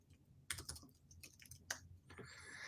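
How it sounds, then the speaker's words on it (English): Quick bursts of typing on a computer keyboard, close and fairly quiet, with irregular clusters of key clicks and short pauses between them. "Ooh, can't type today."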